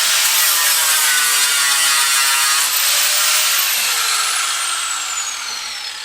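An angle grinder smoothing sealed metal on an abandoned Pontiac GTO Judge pulled from a barn, a steady loud high-pitched whine with shifting tone that eases off slightly toward the end, no talking.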